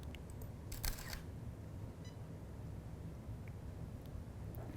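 A single camera shutter fires once to take a still life photograph at 1/30th of a second, a brief sharp mechanical click over a steady low background hum.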